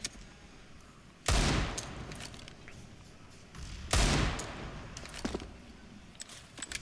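Two sharp, loud Desert Eagle shots in a Counter-Strike match on the Train map, spaced a few seconds apart, each with a ringing tail, amid fainter clicks and distant in-game sounds.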